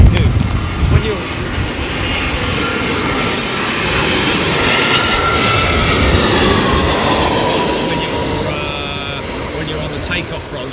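An airliner lands in a crosswind at London Heathrow Airport. A loud, broad engine roar and rushing wind noise hold steady throughout, and someone speaks over it.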